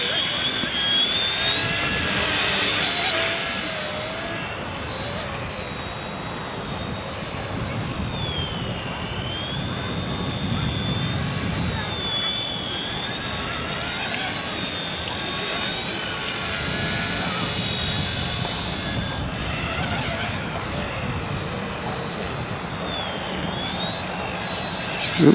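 An Eachine E110 tiny RC helicopter flies outdoors in the wind, and its small rotor and motor put out a continuous high whine that wavers in pitch, with wind noise and a low rumble underneath.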